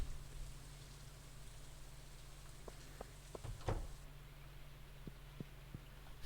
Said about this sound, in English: Shift to rain on the roof.